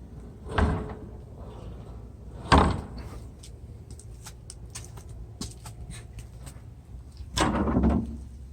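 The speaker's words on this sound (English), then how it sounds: "Independent little flapper gate." A small spring-loaded flapper gate mounted over a hidden fence post swings open and snaps shut, giving three distinct knocking clacks spaced a few seconds apart, close by, with faint rattles between.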